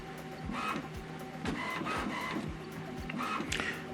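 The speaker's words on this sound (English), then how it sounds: "what this printer is doing now is printing alignment head" An HP printer prints an alignment page, its print head carriage sweeping back and forth with regular clicks, thumps and whirring motor passes, close and clear with no voices.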